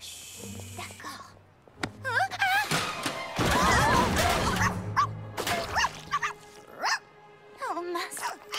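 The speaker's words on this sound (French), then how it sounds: "Le bébé chien a renversé la peinture." A puppy in a Polly Pocket cartoon yips and whimpers amid a clatter as a paint pot is knocked over, short high barks scattered among bumps and voices talking over the commotion.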